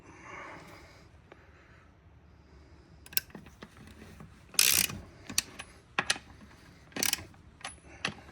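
Lug nuts being snugged up on a 1966 Chevelle Malibu wheel fitted with a Diamondback Redline 215/75R14 tire, a series of sharp metallic ratcheting bursts and clicks after a quiet start, close and uneven in rhythm.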